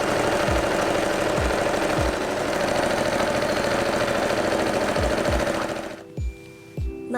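A sewing machine stitches fabric for a big Christmas sailor bow, its motor humming steadily and loudly close by, then winding down near the end into a few slow, separate stitch thumps.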